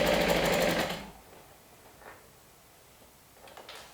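Industrial sewing machine stitching a plush blanket made from two adult toppers, set to a long stitch and loose tension: a loud, steady whir for about a second, then quiet with a couple of faint short bumps.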